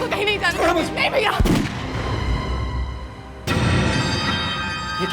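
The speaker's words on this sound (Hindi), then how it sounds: "गोली चलने की आवाज है" Two loud gunshots ring out, the first right after a voice speaking, the second about two seconds later, each trailing into a long echoing rumble.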